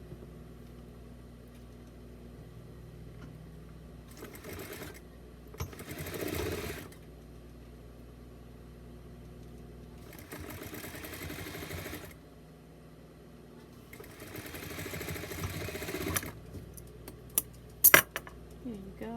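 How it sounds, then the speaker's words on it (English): A sewing machine stitches a seam on a swimsuit-style doll bodysuit in bursts of steady whirring, several runs of a couple of seconds each with quiet pauses between, close by with no speech. "we're gonna stitch it down at 1/8 of an inch."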